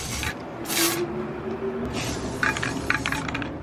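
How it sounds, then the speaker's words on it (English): Spray paint hisses onto a mirror frame in a few bursts, one strong early burst followed by shorter sprays and some rubbing and handling noise close by. "I'm just going to spray it on top"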